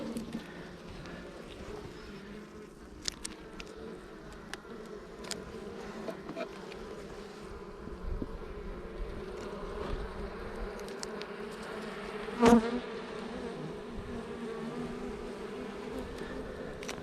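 Honeybees at an open double brood box hive during a heat wave give a steady, fairly quiet droning buzz that continues throughout, with a sharper knock briefly standing out near the end.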